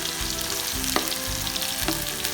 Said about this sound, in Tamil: ஆயில் மட்டும் ஊத்திட்டு இப்போ வந்து சாப் பண்ணி வச்சிருக்கிற ginger ஆட் பண்ணிக்கலாம்